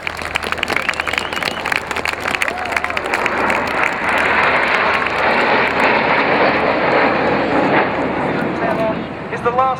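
Applause from an outdoor air show crowd blends with the steady roar of a fixed-wing aircraft engine passing, a broad continuous wash of clapping and engine noise throughout.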